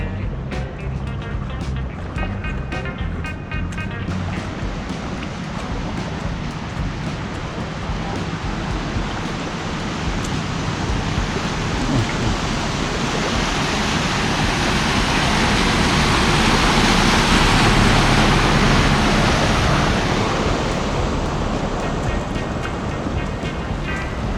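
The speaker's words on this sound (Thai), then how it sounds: "น้ำไหลมา" Floodwater rushes steadily past a flooded roadside during the 2022 Ubon flood, a loud continuous roar and hiss mixed with wind buffeting the microphone, with no talk.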